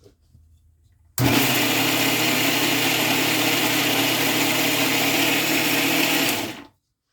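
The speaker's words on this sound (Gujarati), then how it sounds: "આમ મરચાં પીસા હતા મેં પાણી થોડું મશીનમાં લઈ લીધું" A kitchen mixer grinder crushes green chillies with a little water, starting abruptly and running as a loud, steady whirring drone for about five seconds before cutting off, with no talk.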